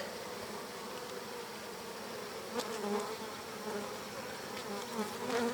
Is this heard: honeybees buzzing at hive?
yes